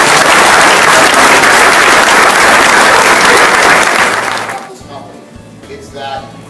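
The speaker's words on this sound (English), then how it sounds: "Give yourself all a round of applause for all the work." Loud, dense audience applause fills a pond-equipment training event, holding steady for about four seconds before thinning out and fading into a quieter room.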